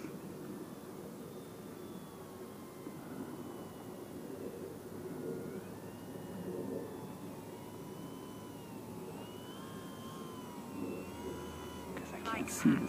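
Durafly Tundra RC model airplane, 51-inch wingspan, circling overhead on a snowy day, a steady whining motor drone with shifting pitch that rises and falls as it passes, faint and distant under someone talking.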